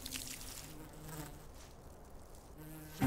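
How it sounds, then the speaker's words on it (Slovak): Bees buzz faintly with a low, wavering drone that fades in and out, ending in a sudden louder burst of noise. "i každé včelie zabzučanie"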